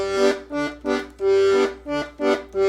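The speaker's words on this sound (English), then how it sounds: "Now all we have to do is add in our walking bass lines" A 48 bass accordion steps through a walking bass line, seven or so separate reedy notes with short gaps between them, moderately loud and close, with no talking over it.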